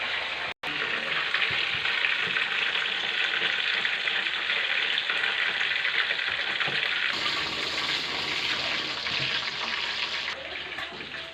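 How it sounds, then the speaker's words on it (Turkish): Breaded chicken sizzles and crackles steadily in hot oil, a dense hiss that grows briefly louder partway through before easing off. "önce yumurtaya bulandırıp sonra galeta ununa bulandırıp kızgın yağda kızartıyoruz"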